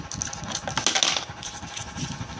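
Loose coins drop and jingle into a coin bank with a steady metallic rattle, heard close under a low background rumble.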